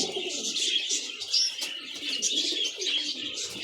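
Pigeons cooing continuously and close by, with soft chirps and tweets mixed in, steady and fairly loud throughout.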